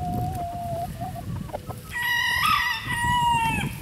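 Free-range chickens outdoors, with a rooster crowing loudly over soft, scattered clucking from the flock, a steady low background murmur underneath and no talk.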